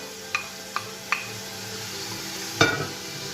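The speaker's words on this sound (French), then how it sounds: "On mélange le tout." Three red and white onions sizzle softly in a pan for couscous, with a spoon tapping the pan three times in quick succession, then a louder scraping clank as the mixture is stirred.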